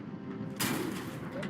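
A tank cannon fires in a video game, one sudden booming blast cutting through a low rumbling background.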